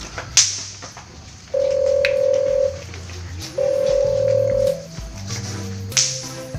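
A telephone rings twice on an unanswered call, each ring a steady electronic tone of about a second with a pause between. Short clicks and handling noises come before and after the rings, and no voice is heard.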